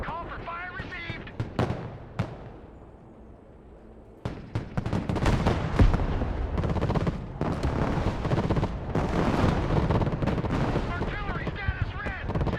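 Artillery fire mission in the Broken Arrow video game: sharp booming blasts and scattered gunfire crack through a battlefield din, building into dense, continuous firing after a quieter opening stretch, with radio voices mixed in.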